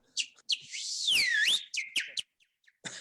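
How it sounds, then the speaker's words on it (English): A person whistles a short tune up to a window, loud and close: a few quick chirps, then a long sliding warble, more short bright notes and a final brief whistle after a pause. "I'm whistling up to his window."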